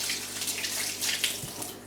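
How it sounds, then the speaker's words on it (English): Water pours steadily from a kitchen tap while hands are rinsed under it, making a close, continuous splashing hiss with small fluctuations throughout. No one speaks. "Let me just rinse my hands."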